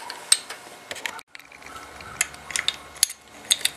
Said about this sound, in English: and then tighten everything up